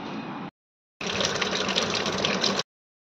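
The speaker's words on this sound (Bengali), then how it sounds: "এবার পরিষ্কার করে ধুয়ে নেব।" Cut pointed gourds (parwal) are washed under running water in a kitchen: a short gush of tap water, a brief pause, then a longer steady splashing stream, close and without talk.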